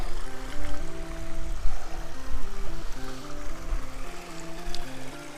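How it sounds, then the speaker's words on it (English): Brook water babbling beside a small arbor at an RV resort wedding spot, a continuous close trickle and rush with a tonal melody playing over it throughout. "with that brook noise"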